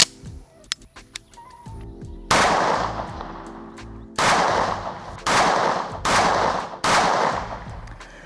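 Five loud pistol shots from a Staccato HD P4 fired at 7 yards, coming in an uneven rhythm with short pauses between them, each shot leaving a brief ringing tail. Lighter clicks and handling noises come first.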